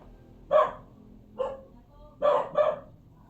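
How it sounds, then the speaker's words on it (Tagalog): A dog barks several times at a distance, single barks followed by a quick double bark, over a quiet background. "May tao sa bahay ng ano kapatid ko guys. Kaya tinatahol po ng aso."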